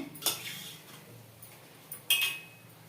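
A spoon stirs a pot of chicken curry as the oil rises to the surface: two sharp metallic scrapes and clinks against the pot, close up, separated by a quiet stretch.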